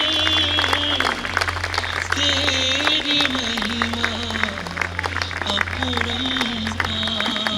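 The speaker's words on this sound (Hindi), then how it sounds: "आपकी तालियों की गड़गड़ाहट।" Audience applause at a Brahma Kumaris Shiv Jayanti gathering at Anand Sarovar, steady clapping throughout with music and voices carrying over it.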